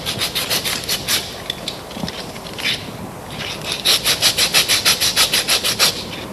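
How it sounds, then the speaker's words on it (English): Emery cloth scuffing a splice cable's sheath, a close rhythmic rubbing that comes in bursts, then a steady run of quick back-and-forth strokes near the end. "scuff it with the emery cloth"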